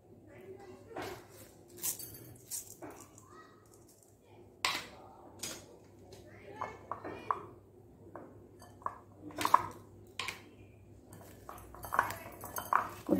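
Sliced bitter gourd tossed with salt in a bowl for a Mangalore-style fry, giving sparse, light clicks and taps against the bowl at irregular intervals over a quiet background.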